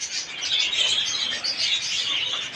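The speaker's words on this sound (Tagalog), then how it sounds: "Ang daming ibon." A flock of pigeons and other birds chirping and cooing together outdoors in Bulacan, a dense steady chorus of high chatter with no speech.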